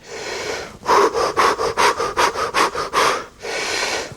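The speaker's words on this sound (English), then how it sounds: "a big inhalation in with a bunch of inhalation exhalations like you're panting" Breath of fire: one big inhalation, then a run of about ten quick, evenly spaced panting breaths close to the listener, ending in a longer exhale.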